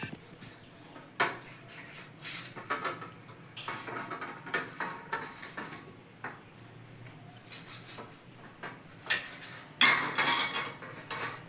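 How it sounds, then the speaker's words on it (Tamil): A knife slices bread into small pieces in a home kitchen, a run of soft scraping cuts and light taps against a plate or board, close and fairly quiet, with a louder clatter near the end. "வந்து நம்ம சிறுசாக கட் பண்ணி வச்சுக்கிடுவோம்"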